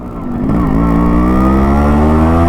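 A Yamaha RX100 two-stroke motorcycle engine revs up and holds a loud, buzzing, ring-ding exhaust note with a rising pitch, close by.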